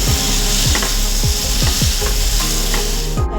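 A spoon stirs masala with peeled quail eggs in a frying pan. Steady scraping strokes repeat at an even pace over a constant loud sizzle of hot oil.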